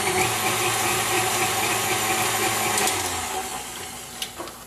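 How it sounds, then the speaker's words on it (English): Apple oatmeal muffin batter is mixed with pumpkin pie seasoning, a loud continuous motorized whir like an electric mixer running close by, easing off near the end with a couple of small knocks. "So I'm going to go ahead and mix that up."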